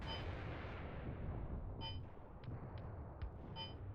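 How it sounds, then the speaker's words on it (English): Artillery shells impacting during a Mius Front game battle, heard as low rumbling booms and dense low-end battlefield noise, with a few sharp metallic cracks and distant clanks punctuating the steady barrage. "Yeah, artillery is impacting here."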